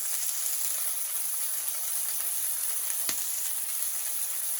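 A burger patty sizzles steadily in a pan, a soft constant frying hiss with no talk and one brief click partway through.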